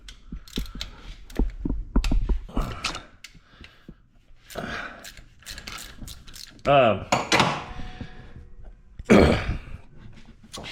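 A ratchet works loose the engine pulley on an NB Miata, clicking and ratcheting in short bursts with pauses between, close by, with some throat noises and mechanical clatter mixed in.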